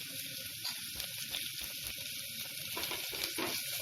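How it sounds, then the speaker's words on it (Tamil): Curry leaves and mint leaves sizzle faintly with ginger-garlic paste in hot oil in a pressure cooker, a soft, continuous frying hiss with light stirring scrapes. "இப்போ கொஞ்சம் நல்லா அப்படியே வதக்கி விடுங்க."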